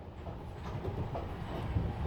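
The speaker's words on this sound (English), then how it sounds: "Oh my God, this is the sound of the train." A train rolling along, a low, steady rumble with faint clatter, fairly quiet and continuous with no voices.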